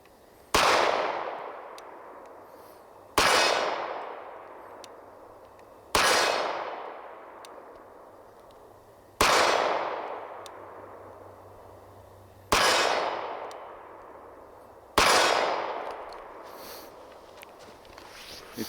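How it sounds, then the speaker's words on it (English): An Auto Ordnance Commander 1911 pistol fires six loud, sharp shots outdoors at a slow, even pace, each crack trailing off into a ringing echo before the next, with no talking. "let's see what it feels like when we're actually shooting it"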